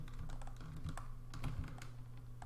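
Computer keyboard keys pressed for a Ctrl X cut shortcut while editing a brick-wall graphic in Inkscape: a few quiet, close plastic clicks over a low steady hum, with no talking.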